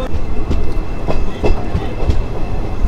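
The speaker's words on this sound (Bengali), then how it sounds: "আর একদম ঠিক রাইট টাইমে আমাদের ট্রেন ছেড়ে দিল বহরমপুর রেলওয়ে স্টেশন থেকে।" A passenger train pulls out of Berhampore railway station, its wheels beating a loud, close, regular clickety-clack about twice a second over a continuous rumble.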